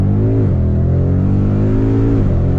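A Shelby Mustang accelerating hard on a drive: loud, close engine roar climbing steadily in pitch, dipping twice at gear changes and then rising again, with no talking.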